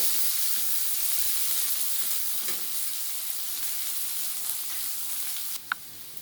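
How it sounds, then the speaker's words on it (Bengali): Chopped onions frying in hot oil in a wok, a loud steady hiss and crackle close up, with a brief sharp clink near the end and no voices. "আগে পেঁয়াজটা ভালোভাবে ভেজে নেব।"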